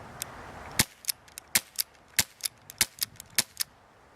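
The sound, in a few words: Crosman Vigilante .177 CO2 air pistol firing single action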